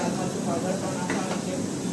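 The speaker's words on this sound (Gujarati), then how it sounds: "પનીરના શાક આટલું વઘાર થઈ રહ્યો છે" Spices tempering in hot oil for a paneer curry, a dense, continuous close sizzle and hiss with no break across the short stretch.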